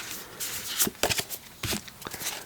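Tarot cards shuffled by hand, close and quiet, a few quick riffling bursts and soft slaps of the deck in an irregular rhythm.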